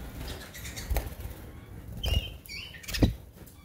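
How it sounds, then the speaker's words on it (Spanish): Red mosaic canaries in a three-metre flight cage flap their wings in several quick bursts, with soft fluttering and faint patter heard up close. "Aquí hay pájaros que van a salir ahora para allá disparados."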